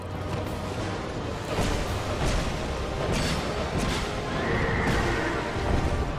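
The Executioner's Chariot horse in Dark Souls 2 lets out a shrill, drawn-out neigh amid clattering hooves, crashing impacts and whooshing game effects, all loud and close, with no talk over it.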